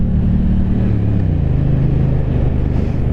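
A 2023 Triumph Bonneville T120 Chrome Edition motorcycle engine rumbles loudly and close while riding, a steady low throbbing drone whose pitch drops slightly as the rider eases off, continuous for a few seconds with no talk.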